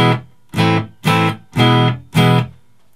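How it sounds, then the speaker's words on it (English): An electric guitar played clean with no effects strikes five evenly spaced chords, each ringing briefly before cut off, close and loud with no voices. "Here is the guitar without any effect."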